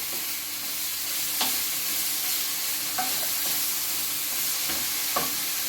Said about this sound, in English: I don't like too much oil, but I think this is fine. Just stir fry it.